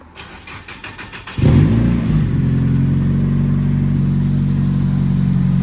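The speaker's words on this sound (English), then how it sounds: "It's got the muffler on, so it's not as raspy and crazy sounding, but the proper TD06." A Nissan 180SX drift car with a TD06 turbo and a muffler fitted cranks with a rapid starter chatter, then fires up loudly and settles into a steady, deep, muffled idle that holds close and constant.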